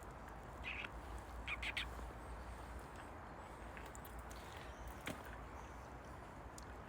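A pet bird lets out a few short squawks in the first two seconds, fairly faint over a quiet room hiss, then only a couple of faint clicks follow.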